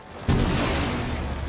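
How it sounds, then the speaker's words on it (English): Hard breach charges from Rainbow Six Siege blow with a sudden heavy boom that rolls on as a rumbling, crackling tail, loud and close. "a new attacker named Ace, who throws sequentially exploding hard breach gadgets"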